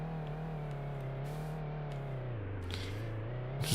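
Simulated car engine from a self-made video game built in Godot, revving steadily with a smooth rising and falling pitch as the car drifts, continuous and close throughout.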